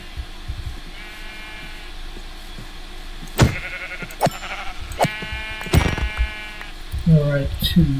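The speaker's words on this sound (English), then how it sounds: "Hey, sheep! Just what I need." Sheep in the video game Minecraft bleat a few times, short wavering calls rising over quiet game ambience, with a voice talking in between.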